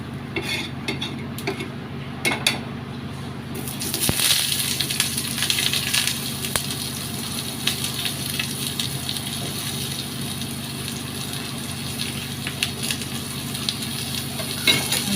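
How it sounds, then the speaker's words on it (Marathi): Onions fry in a pan until golden for a mixed Bhogi vegetable dish, giving a steady, fairly loud sizzle that runs throughout with occasional faint utensil clicks. "छान असं गोल्डन होईपर्यंत फ्राय करून घेऊ"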